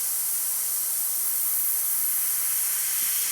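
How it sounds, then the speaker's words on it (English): An Iwata TRN1 airbrush spraying paint gives a continuous airy hiss, steady and close, with no talking over it. "I'm spraying little bitty lines with it"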